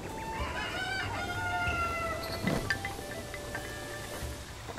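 Chickens clucking in the video game The Legend of Zelda: Breath of the Wild, in Kakariko Village, a series of close, fairly quiet clucks and short calls over soft ambient background.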